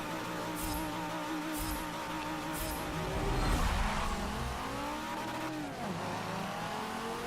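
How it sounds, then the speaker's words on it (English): Race car engine in Forza Motorsport 7 screaming at high revs against the rev limiter, a steady loud whine with wavering pitch, a few short percussive bursts and a brief downshift dip near the end. "I hit the rev limiter"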